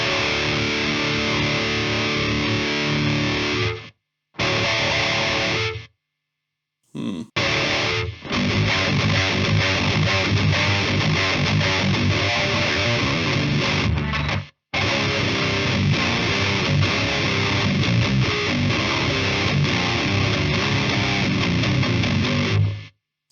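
Electric guitar driven through a Demonfx Precision Drive distortion pedal into an Orange Dark Terror amp, playing heavily saturated, sustained chords that are loud and continuous apart from a few brief abrupt silences early on.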